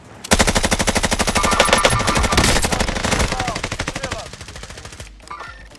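Rapid automatic fire from an FR 5.56 rifle in a war video game, a dense, loud burst of evenly spaced shots lasting several seconds before tapering off, with faint game voices underneath.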